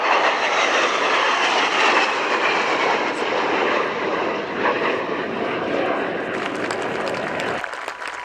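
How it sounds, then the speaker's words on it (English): RAF aircraft fly past at the RIAT airshow at Fairford, a loud sustained engine roar sweeping overhead with crowd noise beneath, cutting off sharply near the end. "Fly past of RAF types over London."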